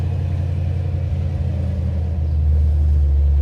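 A G-body car's V8 with a Chupacabra cam runs with a loud, lumpy low rumble close by, holding a steady choppy idle before swelling slightly louder near the end.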